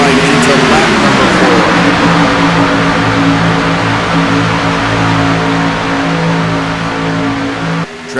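Xfinity race cars in a racing video game roar past on the front stretch at Auto Club Speedway, a loud, continuous engine drone under steady commentary that briefly dips near the end.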